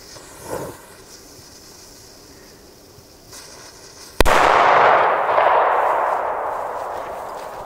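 A Kala Salut firecracker goes off in one sharp, loud bang after a few quiet seconds, followed by a long, rumbling echo that slowly fades.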